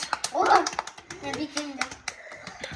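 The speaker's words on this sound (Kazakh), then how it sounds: "Бір-бірлеріңе шапалақ ұрыңдар" Girls clap for each other with a handful of quick, scattered claps that mix with children's chatter and voices close by.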